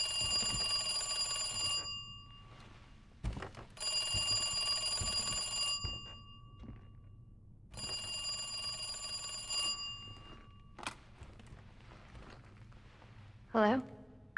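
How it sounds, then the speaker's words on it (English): A telephone rings in Resident Evil 2, loud electronic bursts in a repeating pattern of about two-second rings separated by pauses, with a brief extra tone near the end. "Phone rings."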